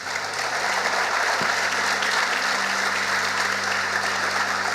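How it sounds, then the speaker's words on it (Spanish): A congregation claps during a Spanish-language church service, a continuous, even wash of applause from many hands with a low steady hum underneath, no voices standing out. "Dale un aplauso al Señor."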